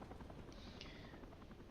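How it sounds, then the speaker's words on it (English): A helicopter in the video game Dying Light: Bad Blood arrives at the escape point, a faint continuous rotor chop with a low rumble, distant and steady. "And the helicopter comes"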